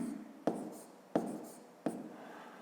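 Pen strokes scratch across paper while numbers are written out for a fifth-grade maths exercise, three short separate strokes at a steady pace, close and quiet, with no talking.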